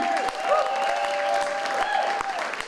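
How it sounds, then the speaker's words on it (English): An audience applauds at an entertainment awards event, steady clapping filling the room at moderate volume, with sustained vocal tones and cheers sounding over it. "so we need to give Leah a big round of applause in the crossing."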